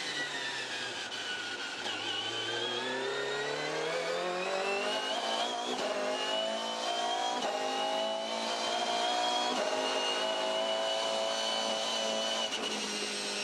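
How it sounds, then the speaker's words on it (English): A Volvo Supercars race car engine at Pukekohe Park Raceway drones steadily, pitch rising and falling gently as the throttle eases on, loud and continuous with no voices. "sound of the Volvo and listen to the gentle throttle progression."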